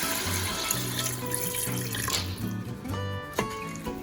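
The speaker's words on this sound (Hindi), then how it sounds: "और इसके साथ ही हम इसमें डालेंगे तकरीबन 1 गिलास पानी" About a glass of water is poured into a pressure cooker of taro and mutton, running and splashing steadily for several seconds, with a clattering knock near the end.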